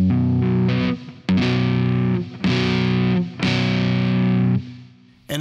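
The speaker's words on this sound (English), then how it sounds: "if you were to play the same power chord, but play the octave down from the fifth" A heavily distorted electric guitar, a six-string, strikes power chords voiced with the octave below the fifth, with four loud sustained chords separated by short choked gaps and a brief final hit.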